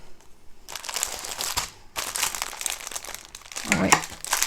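Plastic packaging of a diamond painting kit crinkles and crumples loudly up close as it is torn open, in several bursts of rustling with short pauses between.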